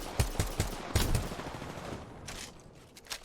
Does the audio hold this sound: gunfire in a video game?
yes